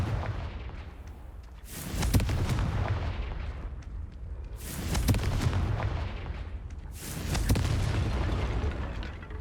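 Three loud, booming blasts of the Confringo spell in Hogwarts Legacy erupt at roughly three-second intervals, each a heavy explosion that rumbles and fades before the next.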